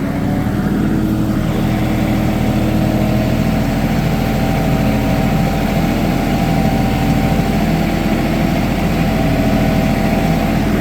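A Kioti NS4710 compact tractor engine runs steadily in low range, second gear, during dirt work, a loud continuous low drone with a constant idle-like hum and no talk.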